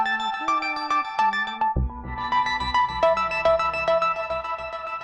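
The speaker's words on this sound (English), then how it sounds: "And with the arpeggiator." A SynthMaster synth patch runs through its arpeggiator, giving quick repeating bright note patterns over a deep bass that shifts partway through, heard clearly with no speech.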